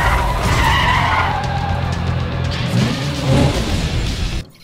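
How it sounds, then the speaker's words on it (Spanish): Cars in the Need for Speed The Run racing game skid and roar continuously, with loud tire squeal and engine noise that cuts off abruptly at the end. "Suenan esos coches."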